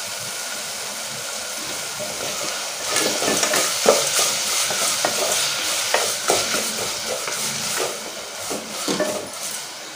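Onions and tomatoes sautéing for sambar in a pan, a steady close sizzle with spoon stirring and scraping strokes that grow busier partway through, no voices.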